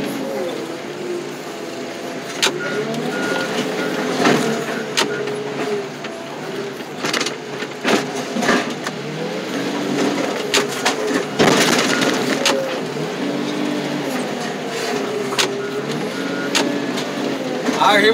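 A car crusher flattens a Mazda 626, with a steady machine drone broken by repeated sharp metallic crunches and bangs, fairly close and loud.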